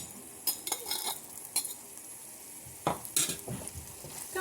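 Utensil scraping and clinking in a pan as sautéed fish with tomato is stirred, a few distinct bursts of metallic scraping over a soft sizzle, with no talking.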